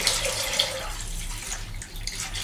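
Hot water poured for a child's bath, a continuous close splashing flow with bright watery texture lasting the whole moment.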